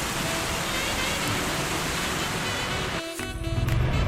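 Heavy thunderstorm downpour roaring dense and close, a constant hiss of rain that briefly drops away before returning with a gusty, surging rush.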